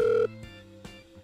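A telephone rings in a Minecraft game, a short electronic ring tone cut off briefly with a quiet gap before the next ring begins, heard alone and close.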